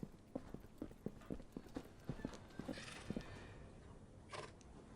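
Horse hooves clip-clopping inside a barn: a steady, even series of close, sharp knocks, about two per second, followed by a brief rustle and a breathy puff at the end.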